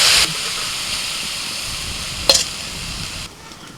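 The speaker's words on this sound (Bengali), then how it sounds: "এবার যতটুকু চিংড়ি মাছ রেখে দিয়েছিলাম সেটা ভেজে নেব" Shrimp frying in a pan, a steady loud sizzle and hiss with a brief clatter of stirring partway through, no talking.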